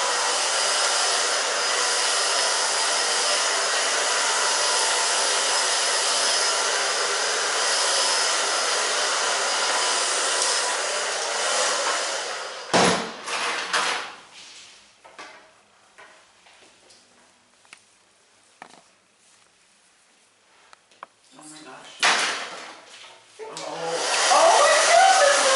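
A hair dryer on its low setting blows steadily and close up while drying fine hair during a short asymmetrical haircut, then cuts off midway, leaving quiet handling noises before it briefly whirs back on near the end.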